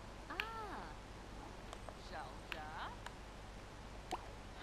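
A cat in The Sims 4 gives a couple of quick, sliding meows amid quiet game ambience, separated by small clicks and drips, fairly faint overall.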